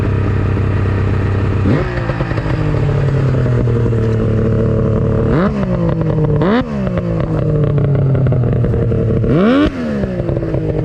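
A Yamaha SX 700 triple snowmobile engine, suspected of bad reeds, runs loud and close, blipping the throttle a few times with each rev rising and then sagging flat instead of climbing cleanly.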